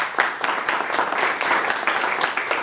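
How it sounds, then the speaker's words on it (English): Applause from an audience at a traffic stop study presentation, a steady wash of clapping with some sharper claps standing out, sustained and fairly close throughout. "give you a round of applause and acknowledgement for being here"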